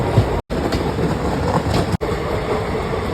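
Bibhuti Superfast passenger train running out of Howrah, a loud steady rumble and wheel clatter heard from on board, with two brief dropouts.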